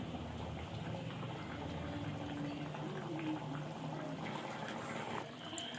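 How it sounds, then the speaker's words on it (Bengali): Water pours into meat in a cooking pot for a home-style biryani, a steady close liquid rush and bubbling that runs throughout with no voices. "এবার জল দিয়ে দেবো মাংসটা সিদ্ধ হওয়ার জন্য"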